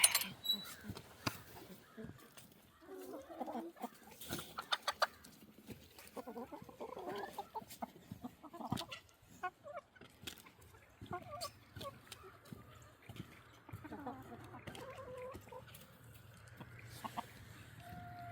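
Farm chickens cluck and squawk in short irregular bursts amid a barnyard with mini cows, while a person talks intermittently over the birds at moderate, fairly quiet levels.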